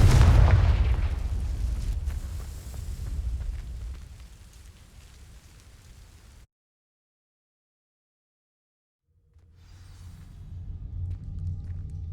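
Confringo fire spell in Hogwarts Legacy exploding on dry vines, a loud booming blast that rumbles and fades over several seconds, then a gap of silence before a low crackling burn rises.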